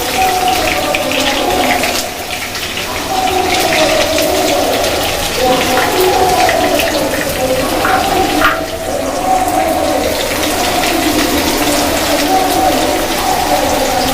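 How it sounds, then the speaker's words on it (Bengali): Onions sizzle and crackle in hot oil for a goat liver curry, a dense continuous frying hiss with scattered pops and an occasional stirring scrape, close and fairly loud throughout. "আমি এখন পেঁয়াজ দিয়ে দেব।"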